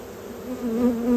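Honey bees buzz steadily inside an open beehive near a honey super, a close, continuous hum with a wavering pitch that grows slightly louder toward the end.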